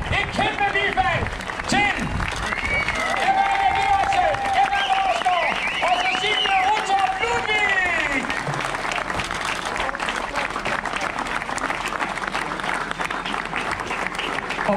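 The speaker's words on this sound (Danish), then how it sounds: "så tror jeg, vi skal have endnu et kæmpe bifald" Sustained loud applause from a large outdoor crowd at a Danish cycling road race championship ceremony in a town hall park, dense continuous clapping with some voices mixed in.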